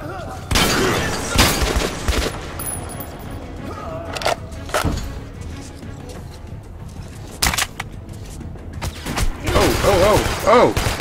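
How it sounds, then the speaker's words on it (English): Gunfire from a firefight in Metro 2033 Redux, with several sharp bursts and cracks scattered unevenly through the clip at varying distance over low ambient game noise. "I think they're shooting each other."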